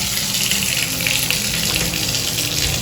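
Water from a bathtub tap gushes steadily after being turned on, a loud, close, continuous hissing rush with no voices.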